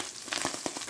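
Ground beef fries in its own fat in a skillet with no oil added, giving a steady close sizzle with scattered crackles and pops and no voices.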